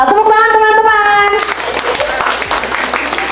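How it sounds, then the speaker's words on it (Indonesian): Children clapping hands together in a school classroom, a steady scatter of claps that begins as an adult voice finishes talking and carries on alone. "Tepuk tangan teman-teman."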